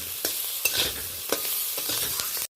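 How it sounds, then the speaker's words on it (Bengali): Spiced semolina and vegetables get stirred in a pan, with spoon scrapes and knocks at an uneven pace over a light sizzle, close and fairly quiet, with no talking, cutting off sharply at the end. "এইভাবে হালকাভাবে নাড়াচাড়া করে নিচ্ছি"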